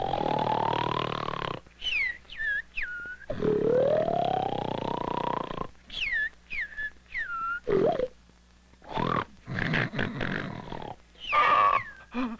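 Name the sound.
snoring, cartoon character Snore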